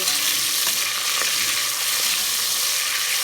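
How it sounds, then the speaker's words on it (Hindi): Onions frying in oil until golden brown, a steady, loud sizzle and crackle running the whole time with a few sharper pops and no voices. "प्याज को आज हम गोल्डन ब्राउन ज़्यादा करेंगे, ज़्यादा ब्राउन करेंगे"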